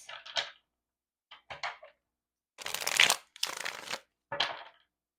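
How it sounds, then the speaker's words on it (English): Tarot cards being shuffled in several quick riffling bursts separated by short pauses, crisp papery rustles close to the listener with no voices. "I feel like shuffling again."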